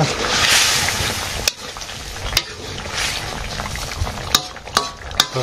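Fish goes into a pan with garam masala paste and fries with a loud, close sizzle, joined by several sharp clacks of a spoon or spatula against the pan.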